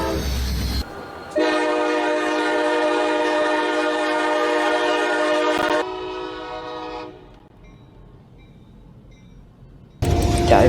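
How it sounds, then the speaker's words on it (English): CSX freight train Q367 passing with a Norfolk Southern SD70ACe locomotive trailing second; a loud sustained multi-tone air horn blares for several seconds and then fades, followed by a quieter interval and an abrupt burst of rail noise near the end. "next up we have an NSSD-70 ACC trailing second on Q367"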